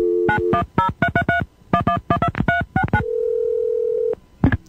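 A rapid series of telephone keypad tones as a number is dialed, followed by a steady ringing tone and a brief click at the end.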